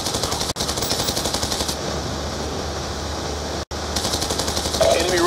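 Automatic gunfire in Call of Duty: Black Ops 2 during a convoy battle against riders on horseback, loud rapid bursts with brief gaps, over a dense roar of battle noise.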